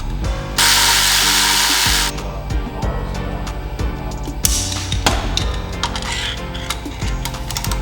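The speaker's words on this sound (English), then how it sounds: "Just torquing down these brake calipers" Brake calipers on a Suzuki GSX-R 750 motorcycle being tightened: a loud power-tool whir at first, then a rapid series of sharp ratcheting clicks and metallic taps, close by.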